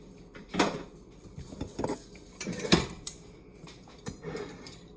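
A mixer bowl is set into a kitchen sink with several hollow clunks and clatters, scattered bangs of metal and dishware at close range amid quieter handling.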